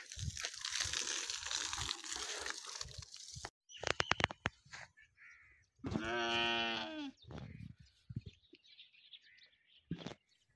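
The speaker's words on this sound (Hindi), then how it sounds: "जब भी मैं कैमरा घुमाता हूँ तो सबसे पहले ये बूढ़ी भेड़ सामने आती है।" An old sheep on a farm lets out one drawn-out, wavering bleat in the middle, with scattered clatter and rustling around it and no talk.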